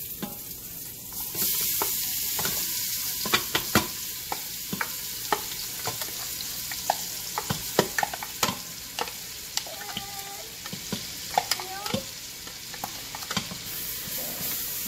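Chopped onion frying in bacon drippings as a base for chili, a constant soft sizzle and hiss with frequent sharp scrapes and taps of a utensil stirring against the pan, close and alone.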